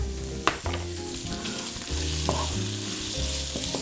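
Onion and chicken fry together in a pot with a steady close sizzle, broken by scraping stirring strokes and a few sharp clinks.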